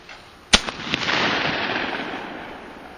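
A single sharp shotgun blast at a skeet shooting range, followed by a few faint pops and a long echoing rumble that fades slowly.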